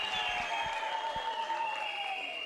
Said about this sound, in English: A big round of applause for everyone who's here and the sponsors